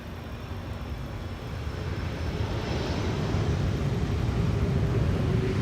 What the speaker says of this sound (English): KLM Flight 696 is arriving from Toronto, Canada